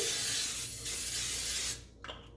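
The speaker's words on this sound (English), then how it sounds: "I'm just going to spray a little bit of my baker's joy in the pan" A steady hiss of aerosol baking spray into a pan for nearly two seconds, close and fairly loud, then it cuts off, followed by a faint clink.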